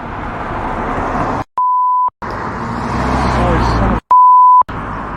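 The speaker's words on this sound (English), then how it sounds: "you'll hear the bleeps and stuff, and you'll hear the car go by" Two loud, steady electronic bleeps sound at a go-kart style reseller rally, each lasting about half a second, between stretches of rumbling vehicle noise as a car passes by.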